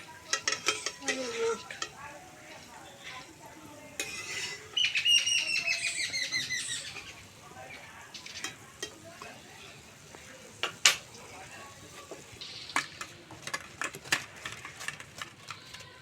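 Palm fruit fritters (bora) sizzle in hot oil at a soft, low level, with scattered crackles, utensil clinks and stirring scrapes; birds chirp and tweet nearby outdoors throughout.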